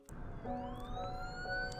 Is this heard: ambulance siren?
yes